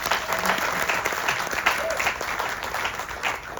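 Steady, full round of applause from an audience at an outdoor Ramayan in the Park event, continuous dense clapping throughout with faint crowd voices underneath.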